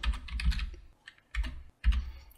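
Fingers tap out a short command on a computer keyboard, close and crisp, in three quick bursts of keystrokes separated by brief pauses, with no voices.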